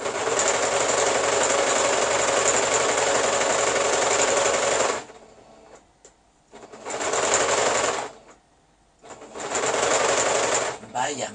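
Sewing machine stitching a fabric placemat, including a few reverse backstitches: loud steady motor runs for about five seconds, then stops and restarts in two shorter bursts separated by quiet pauses.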